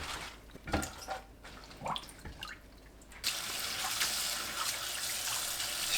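A bowl fills with water for soaking gomchi leaves, starting with a few drips and splashes, then a steady, loud rush of tap water pouring close by.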